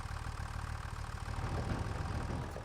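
In the Farming Simulator 25 video game, a tractor engine idles with a steady, rumbling chug, moderately loud and continuous with no talk.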